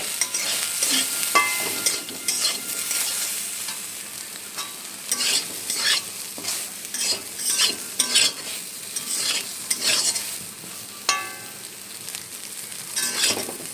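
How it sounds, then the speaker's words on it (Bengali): Soybean chunks with a little turmeric and salt fry in a pan, a busy sizzle broken by repeated scraping stirs and clinks of the spoon, close and fairly loud with no talking. "সয়াবিনগুলো ভাজা হয়ে গেছে এবার এটা আমি নামিয়ে নেব"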